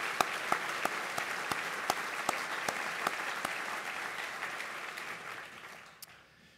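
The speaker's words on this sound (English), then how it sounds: "let's give all of them a round of applause." A seated dinner audience at a university gala gives a round of applause, dense steady clapping with sharp individual claps standing out, holding for several seconds before tapering off at the end.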